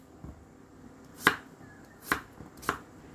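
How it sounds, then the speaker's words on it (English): Three sharp knife chops strike a cutting board at uneven intervals, close and crisp, with a fainter tap before them and quiet between. "I will cut into big pieces, just like this."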